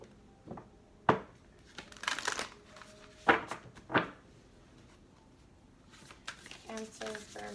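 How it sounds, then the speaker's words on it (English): Tarot cards are shuffled in several quick riffling bursts with pauses between, close up, with a few soft taps and rustles. "This will be our final shuffle."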